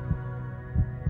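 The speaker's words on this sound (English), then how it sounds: "Love and fear can both get the heart pounding." Deep, thudding heartbeat throbbing slowly and close, a few strong low pulses over a steady hum, with no speech.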